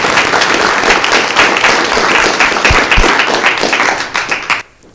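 People at a city council meeting give Kyle a round of applause, a brisk burst of clapping with a few sharper individual claps before it stops abruptly.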